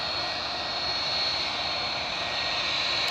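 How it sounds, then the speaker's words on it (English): Rolls-Royce RB211 jet engines idle on an airliner at Edinburgh Airport, a loud, continuous whine and roar with a steady high-pitched tone, close by and unbroken, with no one speaking. "I'll not compete with the sound of these idling RB211s."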